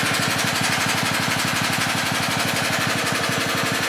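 Old Holden Commodore engine running roughly, a steady loud rapid pulsing throb with an uneven beat, close up and continuous with no talking.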